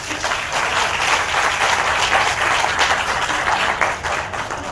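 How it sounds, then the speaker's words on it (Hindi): Crowd at a Hindi poetry recital breaking into loud, sustained applause, a thick continuous roar of many hands clapping that holds steady before tapering slightly at the end. "एक बार जोरदार ताली बजाओ।"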